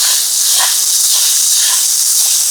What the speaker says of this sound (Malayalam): നമ്മളിവിടെ ഉള്ളി വാട്ടാണ്.